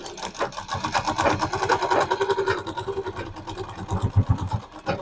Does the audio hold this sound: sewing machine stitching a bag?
yes